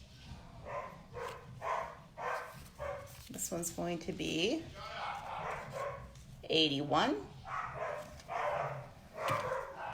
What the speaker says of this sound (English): There must be another dog outside or something.